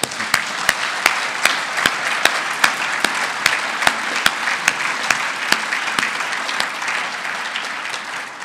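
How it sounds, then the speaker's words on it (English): A final round of audience applause at an awards ceremony: dense clapping from a crowd with sharp, prominent individual claps punctuating it, strong at first and easing gradually toward the end. "Let's have one final round of applause."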